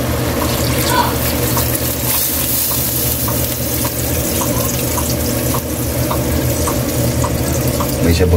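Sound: water poured into cooking pot with corn

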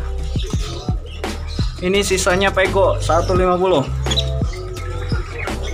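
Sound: songbirds chirping at Pemalang bird market

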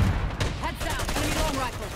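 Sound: enemy marksman gunfire, Black Ops 6 video game

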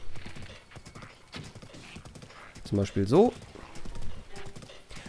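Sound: horse galloping in The Legend of Zelda: Breath of the Wild video game

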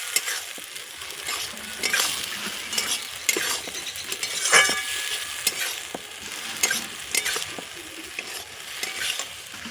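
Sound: stir-frying mustard masala with figs and taro stolons

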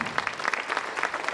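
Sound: audience applause

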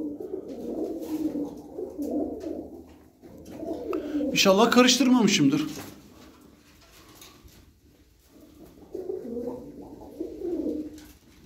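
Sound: pigeons cooing

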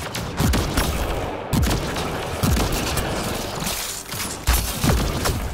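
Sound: gunfire from the video game Mass Effect: Andromeda

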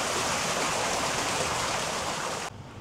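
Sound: cascading water feature at a hotel pool

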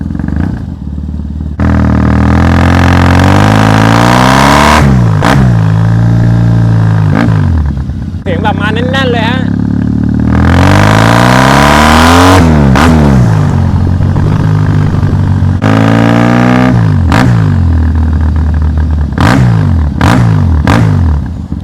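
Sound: Triumph Thruxton 900 motorcycle being ridden

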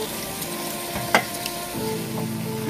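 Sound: mutton with yogurt, ginger-garlic paste and masala frying in pan

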